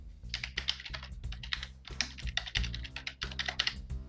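Fast, continuous typing on a computer keyboard, a dense run of crisp close-up key clicks over a steady low hum, with no voices.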